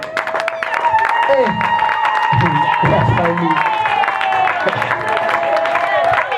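Guests at a wedding party clap and cheer as the bride is introduced, with applause and scattered whoops running steadily beneath an announcer speaking over a microphone and background music.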